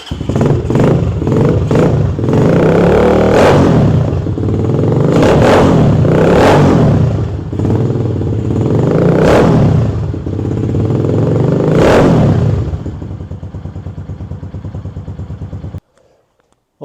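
KP mini 150 Nibbi motorcycle engine running with the muffler baffle removed, loud and raspy, blipped through several sharp revs in a row before cutting off near the end.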